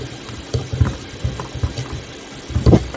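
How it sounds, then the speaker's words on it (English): A Daikin DC fan rotor is turned slowly by hand during a Hall sensor test, giving uneven clicking, ratchet-like mechanical ticks close up, with no talking. "Slowly turning the rotor to test each Hall signal"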